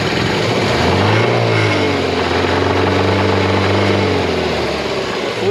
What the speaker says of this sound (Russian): Ну вот мотор прогрелся, работает очень хорошо